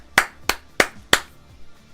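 Four crisp, evenly spaced hand claps ring out close and loud, like a single person slowly applauding, with quiet in between.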